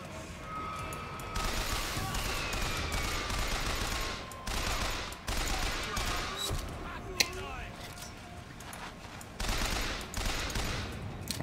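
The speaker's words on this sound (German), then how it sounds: "Wir haben eine neue Waffe. Ein Maschinengewehr." Machine gun fire in Bioshock Infinite, heard as several sustained bursts of rapid shots separated by brief pauses, loud and close over in-game ambience.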